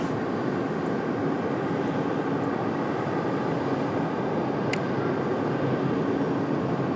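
An executive jet departs from Raleigh Durham International Airport, a steady broadband roar of jet engines heard from a distance, holding at an even level without speech.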